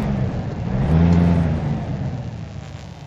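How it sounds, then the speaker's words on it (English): Deep diesel revving from a Volvo VNL 780 semi truck in American Truck Simulator: one throttle blip swells to a loud droning peak, then eases back to a steady idle rumble. "Let's rev it up."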